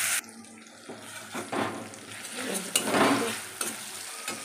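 Fish goes into hot oil with chopped onion and sizzles, with a clatter as it is added and bursts of louder hissing as it is stirred. The frying runs steadily and close by, with no talk.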